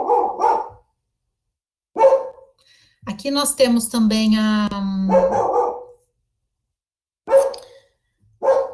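A pet dog barks repeatedly indoors, in short loud bursts spaced a second or more apart, while a woman on a video call talks between and over the barks.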